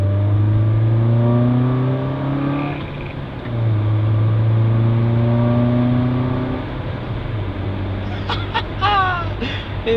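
A Mitsubishi car fitted with a new short ram air intake revs repeatedly, its engine note rising and falling in several long sweeps close by, with a brief higher whine near the end.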